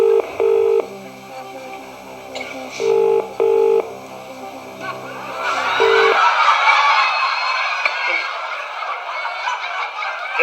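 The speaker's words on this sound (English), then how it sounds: "Let's phone him." Telephone number being dialed on a keypad, a handful of separate beeping tones spaced irregularly over about six seconds, followed by a broad hissy line noise.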